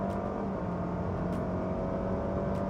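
Honda ZR-V hybrid SUV pulls hard along a long straight, a steady dense engine and road roar heard from inside the cabin, constant and unbroken without any voices.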